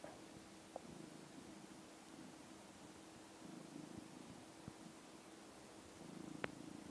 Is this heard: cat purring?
yes